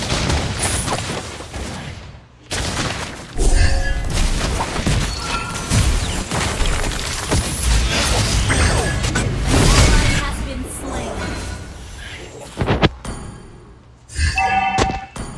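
Sniper rifle shots ring out for the hero Beatrix in the Mobile Legends mobile game, as sharp booming blasts mixed into dense game effects, music and announcer voices, with a few loud impacts and brief gaps.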